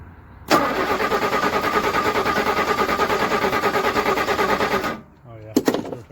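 A long-abandoned 1969 Jaguar XJ6 Daimler Sovereign engine cranks steadily for about four seconds with a fast, even rhythm, loud and close, then stops; a few sharp knocks follow.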